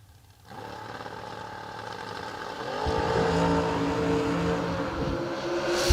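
Drag race cars, among them a Camaro Roadster, heard from a distance as an engine roar rises out of near silence and builds into a loud, sustained howl with climbing pitch.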